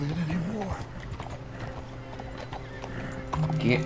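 Hooves clip-clop in a steady rhythm as a horse moves along in Red Dead Redemption 2, with a brief whinny and a voice speaking over it.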